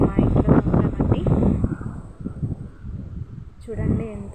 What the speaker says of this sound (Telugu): చూడండి ఎంత గాలి